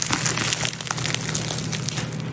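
A freshly baked sourdough loaf with a dark, crisp crust crackles as it cools, giving dense, close, dry snaps and ticks throughout a short stretch with no talking.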